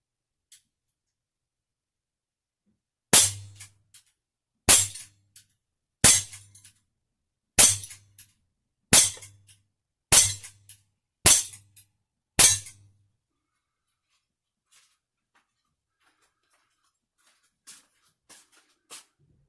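An Umarex Walther PPQ CO2 air pistol fires .177 Magnum pointed pellets: eight sharp, close cracks at roughly one-and-a-half-second intervals, each with a short ring, followed by faint handling clicks.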